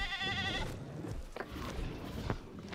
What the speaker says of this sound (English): He's going after that goat.